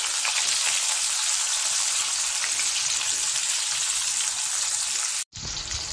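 Grated radish, finely chopped carrot and green chillies sizzle steadily in a frying pan, a loud, close hiss that stops abruptly for a moment near the end.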